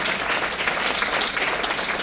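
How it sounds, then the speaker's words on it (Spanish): Steady, sustained applause from a church congregation during a sermon, a dense wash of clapping that holds at an even level throughout. "Dar un fuerte aplauso"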